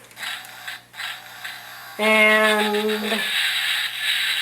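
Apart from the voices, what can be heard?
Dark of the Moon Optimus Prime toy Mech Tech gimmick sound effect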